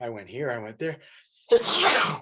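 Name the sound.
sneeze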